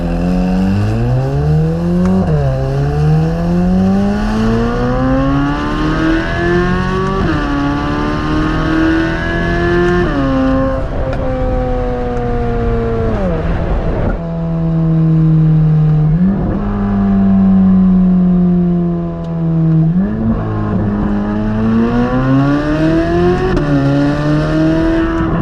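2024 Chevrolet Corvette C8 Z06 3LZ driving on the road, its engine loud and close, rising through gears with repeated climbs in pitch, brief drops at upshifts and a lower cruising drone midway.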